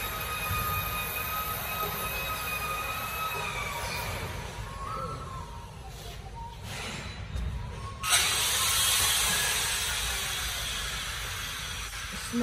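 Side sealing bag making machines run in a busy factory, giving a constant loud mechanical hiss and whir with thin whining tones. There is a brief softer lull before the noise surges back fuller.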